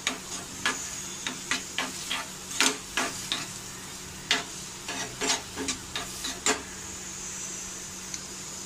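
Vegetables stir-fried crunchy in a hot pan, with a steady sizzle broken by repeated sharp scraping and tossing strokes of a spatula at an uneven rhythm, close and fairly loud, with no talking.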